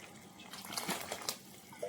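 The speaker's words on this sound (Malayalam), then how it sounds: "ഇതിലേക്ക് ഒരു 4 കപ്പ് വെള്ളം ചേർക്കണം." Boiled water is poured into a pot of oats for soup, a soft splashing gurgle that swells and fades in faint bursts, with a small clink near the end.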